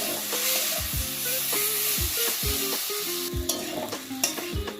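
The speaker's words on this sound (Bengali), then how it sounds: "সিদ্ধ করা বেগুনটা দিয়ে দেব। দিয়ে ভালো করে বেগুনটাকে এই মশলার সাথে ভেজে নিতে হবে।" Boiled brinjal fries with spices in a pan, a constant sizzle broken by repeated spatula scrapes and knocks against the metal in an uneven stirring rhythm.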